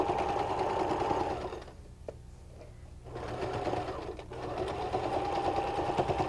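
A sewing machine stitches drapery fabric at a fast, steady whir, stops for about a second, then runs again for a short back tack and continues, close and loud.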